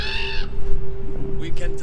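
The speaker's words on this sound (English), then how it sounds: "Assassin's Creed is all about the crows." Crows caw in the game Assassin's Creed Valhalla, a loud, harsh call opening the moment before a voice talks over low ambience.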